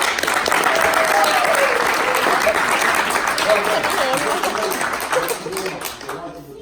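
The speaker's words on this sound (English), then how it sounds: "Right, give them a round of applause." Loud applause from a group at a Maori cultural session, dense clapping mixed with cheering and a few voices calling out, sustained before gradually thinning and fading at the end.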